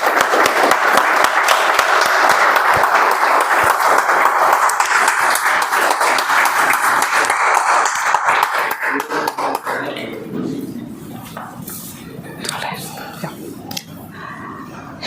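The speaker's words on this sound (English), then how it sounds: "With a thunderous round of applause, please help me welcome Toastmaster Praveena and Toastmaster Nitish." Audience at a Toastmasters club milestone meeting claps loudly and steadily for about ten seconds, then the applause thins to scattered claps with faint murmuring.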